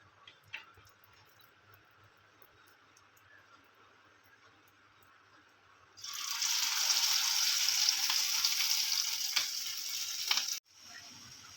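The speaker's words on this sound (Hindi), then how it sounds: "तेल गरम हो चुका है। अब इसे एक एक करके इसमें डालना है।" Shami kebabs, Lucknowi style, dropped into hot oil in a pan, set off a loud, steady sizzle that bursts in partway through after a quiet start and then cuts off abruptly.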